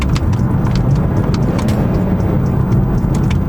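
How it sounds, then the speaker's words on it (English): BMW E46 M3 with its S54 B32 engine and individual throttle bodies drones loud and steady, a continuous close engine roar with no pauses or voices. "the famed S54 B32 motor"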